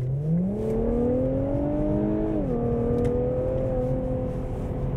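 An Infiniti Q60S 400-horsepower V6 all-wheel-drive coupe accelerates hard from 50 to 100, its engine note climbing steadily and loud, dipping briefly at a gear change before rising again.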